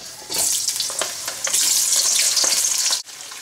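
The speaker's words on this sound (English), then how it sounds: "Now, you just want to fry this until it breaks easily." Thin potato slices frying in a pan of oil for a Spanish omelette, a loud, steady sizzle with scattered pops and crackles, cutting off abruptly near the end.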